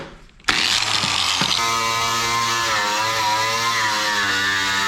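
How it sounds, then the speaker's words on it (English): A spinning wire wheel grinds paint and adhesive off the body of a Nissan Gloria to expose spot welds, starting abruptly and holding a loud, steady, whining buzz with no talk. "the best way that I have found to find the spot welds underneath the adhesive and paint is just to use a wire wheel like this"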